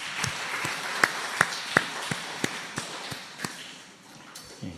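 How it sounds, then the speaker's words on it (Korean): A church congregation at a Sunday service claps for a young member, heard as a few sharp, separate claps standing out over a faint, thin patter of scattered hands. "요한이를 위해서 박수 한번 쳐주십시오."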